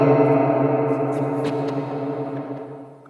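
A sustained tone, most likely a singing voice, passes through reverb set to 100% room size in the Audio Evolution Mobile app, holding steady with a long, washy tail that slowly fades over three seconds.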